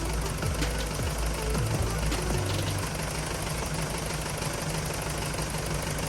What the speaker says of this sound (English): Now that the vehicle's running